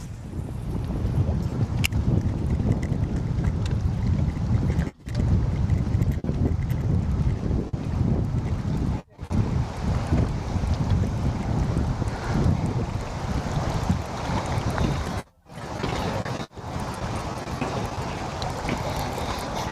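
Strong wind buffets a fishing boat on the Columbia River, a loud continuous roar and rumble of gusts with a few brief lulls, water lapping beneath.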